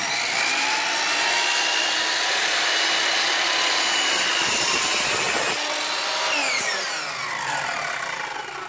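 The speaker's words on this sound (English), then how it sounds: "he's got his saw ready with a little laser beam there ready to go" A laser-guided power saw rips steadily through the edge of a cedar plank, a loud continuous whining cut that holds for most of the span before tailing off as the blade finishes, with no voices.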